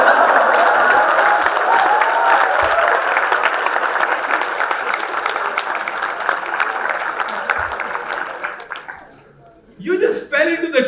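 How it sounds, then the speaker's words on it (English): An audience at a conference talk bursts into sustained applause that gradually thins out, followed by a person speaking briefly. "You're not supposed to clap at this."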